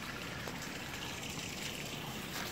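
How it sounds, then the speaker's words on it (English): A creek trickles behind a house on a large open lot in Sarasota, a faint, steady wash of flowing water heard from some distance with no voices. "there's a creek back there"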